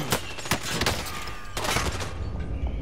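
Rapid bursts of gunfire ring out in Call of Duty Warzone, loud and close, with several sharp shots and sustained automatic fire rattling across the whole stretch.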